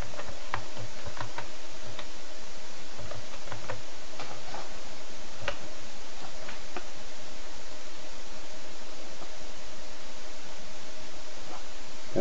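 Computer keyboard typing a Windows run command, a short run of sharp, distinct key clicks early on, then quiet hiss for the remainder.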